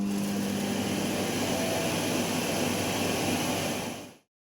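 Dreame Aqua10 Ultra docking station running its auto-empty cycle, a steady, loud broadband whoosh like an ordinary vacuum cleaner, holding even for about four seconds before cutting off abruptly.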